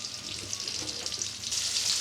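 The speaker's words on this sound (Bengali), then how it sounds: "আমি বাগারদের জন্য সামান্য তেল দিচ্ছি চারটি শুকনো লঙ্কা দিলে দিলাম" Four dried red chillies frying in a little hot oil as tempering for mashkalai dal, a steady close crackling sizzle that swells slightly louder toward the end.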